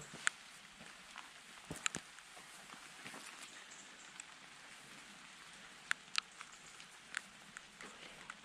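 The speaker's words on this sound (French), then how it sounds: "Bon, il pleut, hein, c'est pas top." Light rain patters steadily on surfaces outdoors on a road trip in the Dordogne, with scattered sharper drops and taps standing out over a constant soft hiss; fairly faint and no talking.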